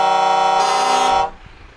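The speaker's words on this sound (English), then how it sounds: "My horn wins." Air horn of a 44-ton Mercedes Actros or Scania R500 truck, blaring one loud, sustained, harmonically rich tone for just over a second before cutting off abruptly, close by with no talk.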